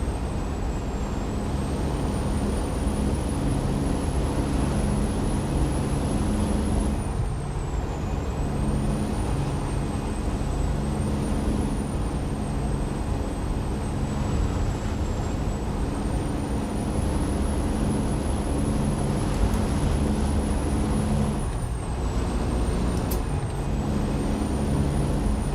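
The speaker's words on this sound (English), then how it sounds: "The turbo build-up on here is lovely." Heavy truck engine in American Truck Simulator, droning steadily and loud throughout with a sustained whine of turbo build-up riding over the low rumble, no talking.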